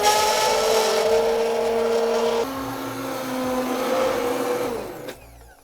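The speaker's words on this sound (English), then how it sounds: "I'm gonna take a hand mixer and I'm just gonna blend this entire mixture" Hand mixer blending carrot, celery and onion sauce, a loud, steady high-pitched whirring motor whose pitch shifts a few times as it works through the vegetables, then cuts off at the end.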